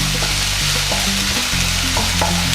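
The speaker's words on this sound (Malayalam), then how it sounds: "ഇതുപോലെ സവോള ഒന്ന് വഴന്ന് വരട്ടെ." Sliced onion with a pinch of salt softens in a hot pan for a cauliflower and egg dish, giving a loud, steady sizzle throughout with low tonal background music underneath.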